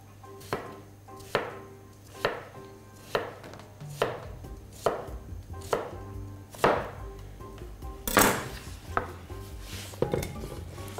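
A knife chops a cucumber on a board in a home kitchen, about a dozen crisp, evenly spaced strokes close up, followed by a brief clatter and scrape of the pieces being gathered.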